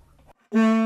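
After a brief spoken phrase, a single loud saxophone note starts abruptly, tongued with a throaty g-like attack, then sustains steadily.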